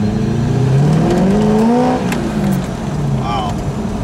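A Corvette engine revs up and eases off while driving through a residential neighborhood, a loud rising whine that climbs for about two seconds and then drops, with voices talking briefly near the end.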